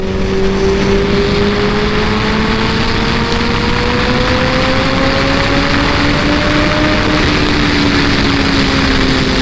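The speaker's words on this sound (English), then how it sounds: "let's do a fourth gear pull here" A 2014 Kawasaki ZX-14R motorcycle accelerates hard in fourth gear, its loud, steady engine note rising in pitch throughout with heavy wind rush. No one speaks.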